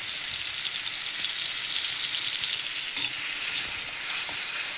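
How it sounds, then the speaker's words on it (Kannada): Mushrooms fry in hot oil while being stirred, a dense, steady close-up sizzle with faint occasional scrapes of the spoon and no talking. "ಈ ರೀತಿ ಎಣ್ಣೆಯಲ್ಲಿ ತಿರುಗಿಸ್ತಾ ಇರಬೇಕು"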